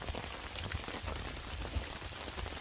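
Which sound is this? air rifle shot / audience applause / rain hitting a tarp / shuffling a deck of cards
rain hitting a tarp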